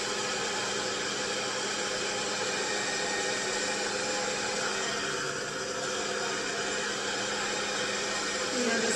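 Hair dryer fitted with a diffuser blows on medium heat while drying curly hair, a constant close whooshing hiss that stays even for the full nine seconds without pause or talk.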